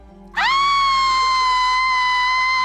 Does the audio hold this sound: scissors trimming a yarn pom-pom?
no